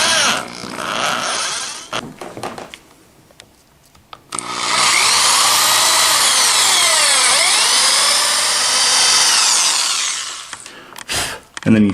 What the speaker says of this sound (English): just drill in, and be very slow and careful you're not drilling through the back side of the body.